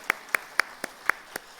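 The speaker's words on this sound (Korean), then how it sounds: "우리 함께 서로 좌우를 바라보면서 박수도 한번 하십시다" A church congregation at a Korean Sunday service claps, heard as about seven distinct, evenly spaced sharp claps, roughly four per second, fairly soft against a quiet room with no talking.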